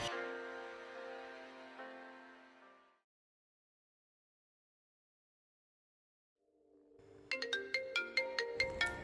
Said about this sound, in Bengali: অর্জুনের কাছে ফোন এসেছিল। অর্জুন ফোনটা ধরল